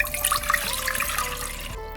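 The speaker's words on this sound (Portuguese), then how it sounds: "Bom, então aqui direto para a massa eu já vou colocar a água" Water poured from a container into a pot for modak dough, a steady splashing stream running close and fairly loud for about two seconds before tapering off.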